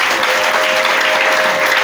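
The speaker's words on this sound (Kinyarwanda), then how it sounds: "Reka duhuze ibiganza dukomere Imana amashyi," A church congregation applauds in a loud, dense, continuous burst of clapping, with a faint voice audible beneath.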